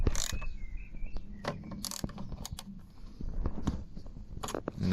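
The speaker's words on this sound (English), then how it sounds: "So loosen this bolt as well." A wrench loosening a bolt on the washer motor of a Smart car, quiet close-up clicks, ratcheting and small metallic knocks scattered irregularly over several seconds.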